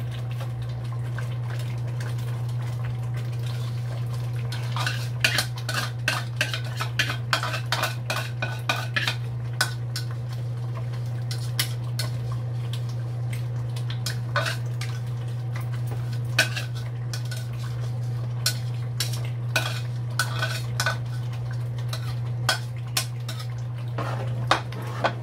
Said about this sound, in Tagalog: lagay na natin yung gata, yung unang tiga.